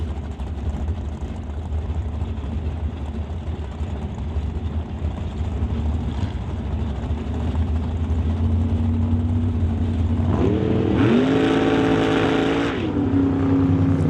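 A 1966 Ford Mustang drag car in an NHRA Summit ET Super Street bracket race roars loud and steady, its engine note climbing sharply as it launches down the strip alongside another racer, with a race announcer talking over it.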